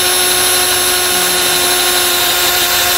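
A power drill with a large bit bores a hole into a 2021 Jeep Wrangler for a tow base plate, a loud steady high whine running continuously with no pauses.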